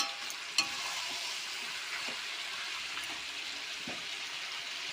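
Ginger, garlic and green chili paste frying with chicken and onion in a pan, a steady hissing sizzle with occasional faint scrapes and one small clack early on, close but fairly quiet.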